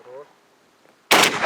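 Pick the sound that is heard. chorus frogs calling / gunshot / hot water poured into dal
gunshot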